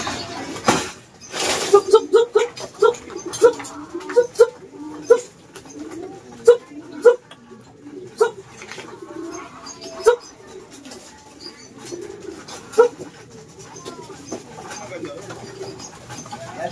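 Racing pigeons coo softly at a home loft just after landing from a long-distance derby race, a run of low, throaty murmurs repeating nearby while a person talks over them and small knocks sound.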